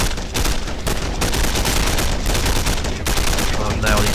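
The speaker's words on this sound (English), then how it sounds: "Nice assault rifle action." Rapid bursts of M16 assault rifle fire rattle almost without pause from a Vietnam War battle in the strategy game Men of War: Vietnam, joined by distant machine-gun chatter and explosions.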